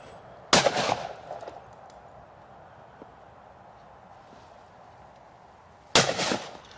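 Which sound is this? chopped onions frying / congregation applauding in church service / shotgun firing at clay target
shotgun firing at clay target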